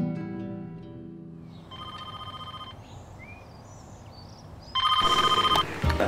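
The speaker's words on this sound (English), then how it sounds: "Every week, Ian gets dozens of phone calls from exotic pet owners looking to offload their animals" A telephone rings in two bursts of electronic trilling, separated by a pause, over steady background noise in a room where exotic pets such as snakes are kept.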